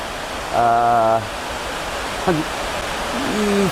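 Constant broad rushing roar of water from gigantic cooling tanks, heard about 70 meters away on a cycle tour in France, steady and loud like a waterfall, with brief tonal sounds and a voice passing over it.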